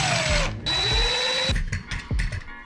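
A power drill backs screws out of a kitchen fan cover in short bursts, each with a rising then falling motor whine. Clicking and rattling handling noises follow as the tool starts and stops up close.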